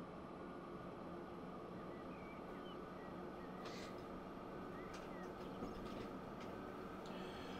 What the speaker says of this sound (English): What, there's a train ahead of us?